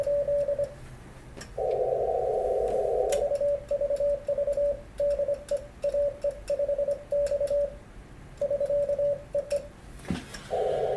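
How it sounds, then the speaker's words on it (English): Monitor Sensors 630 meter transverter driven by a Flex radio on CW, sending a steady sidetone-like keyed tone in bursts of dots and dashes with quick transmit-receive changeover, loud and close with no talking. "Let me just go to CW on the flex for a minute and demonstrate the TR changeover."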